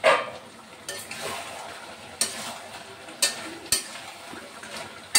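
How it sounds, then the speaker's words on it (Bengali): Mutton fries in a pan with a soft continuous sizzle, broken by several sharp scrapes and clatters of stirring at irregular intervals, close and fairly loud. "মাংসটা ভাজা চলছে এখন, চাপা দিয়ে দেবো"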